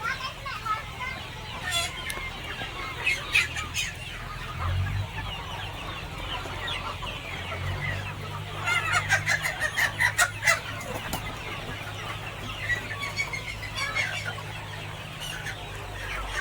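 Desi country hens on a poultry farm cluck in a steady mix, with a few louder bursts standing out, while a voice speaks over the flock throughout.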